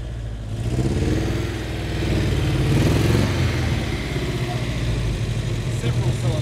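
An old Ford Fairmont, long off the road, idles roughly on most but not all of its cylinders, a steady, uneven low engine rumble with a slight swell midway and voices talking over it.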